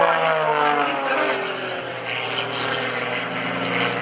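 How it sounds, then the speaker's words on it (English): Aerobatic propeller airplanes performing at the 2014 Greenwood Lake airshow, tumbling and going over the top: a loud, continuous engine and propeller drone whose pitch slowly shifts as the planes manoeuvre, heard alone. "Greg Connell tumbling his airplane as Gary Ward goes over the top, tumbling his airplane as well"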